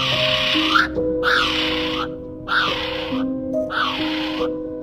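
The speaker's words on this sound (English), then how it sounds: "Kiwi bird." Four loud, evenly spaced shrill calls from a kiwi bird, each a rising-falling whistle close up, separated by short silent gaps, with a steady tonal hum beneath.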